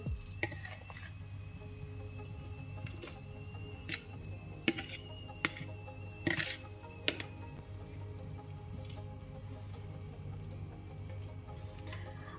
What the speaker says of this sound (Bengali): আবার ভালো করে নেড়ে চেড়ে নিলাম